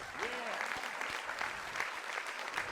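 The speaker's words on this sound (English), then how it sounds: "Sir, you're not clapping, sir." Audience clapping at an improv comedy show, a lively mix of hands with a few whoops and crowd noise rising and falling throughout.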